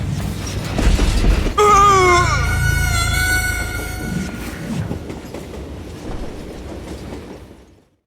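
A train rolls along the tracks in the Western video game Call of Juarez Gunslinger, a loud steady rumble with a long rising metallic wheel squeal in the middle that fades toward the end.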